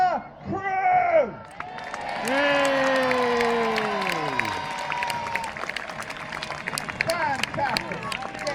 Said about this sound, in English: give the biggest cheer you ever have for the crew!